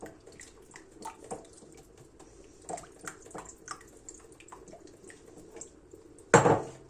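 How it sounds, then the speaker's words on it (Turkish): Oil and sugar are whisked in a bowl for flatbread dough, making soft, irregular taps and light clinks, then one sharp louder clatter near the end, with no talking. "Şimdi bunların hepsini şöyle güzelce çırpıyorum, karıştırıyorum arkadaşlar."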